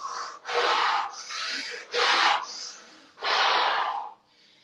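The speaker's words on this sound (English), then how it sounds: "We're going to take 32 rapid inhalations." A person takes rapid Wim Hof style breaths, forceful rushing inhalations through the nose and exhalations through the mouth, close and loud, repeating in a quick uneven rhythm.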